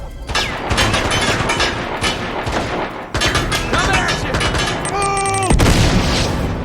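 Bomb explosions in the video game Uncharted: Golden Abyss, loud continuous blasts mixed with rapid gunfire and crashing debris, with rising electronic tones near the end.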